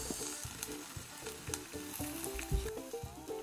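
Spring cabbage seared hard in a hot pan, being turned for browning, gives a steady loud sizzle with bursts of crackling and spatter running throughout, no voices.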